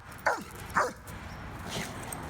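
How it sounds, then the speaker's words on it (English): Two sharp barks from a dog on a Brooklyn street stroll, confronting a punching bag shaped like Trump, spaced about half a second apart over steady outdoor background noise, followed by faint quieter sounds. "this Brooklyn dog named George encountered a punching bag Trump during a post-election stroll"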